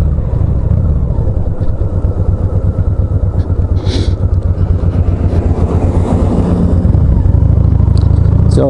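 Loud, steady motorcycle engine and wind rumble from the rider's perspective on a gravel road while another vehicle goes by, the drone continuous throughout with no talking.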